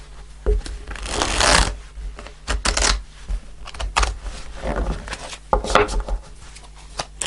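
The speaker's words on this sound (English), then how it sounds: "I'm going to shuffle a bit more" Tarot cards riffle and slap together in repeated bursts, a close, crisp flutter of shuffling with short pauses between passes.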